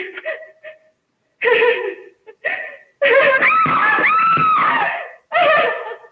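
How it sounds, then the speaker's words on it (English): Screaming from a fight scene in the film Reefer Madness, with wavering high cries in bursts and a long, loud, strained shriek in the middle, set against other agitated voices. "That scream, though"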